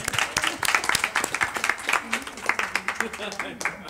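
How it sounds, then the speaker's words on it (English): An audience at an IFFI film festival panel claps for a group of girls, with dense, lively applause that runs steadily and close throughout, and a faint murmur of voices underneath. "Let's clap for these girls."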